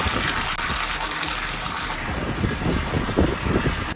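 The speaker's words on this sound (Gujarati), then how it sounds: "થોડુંક આપણે પાણી ભરાવા દઈએ." Water gushes steadily into a cracked water tank and spills out through the breaks, a continuous, fairly loud rushing and splashing wash with no voices.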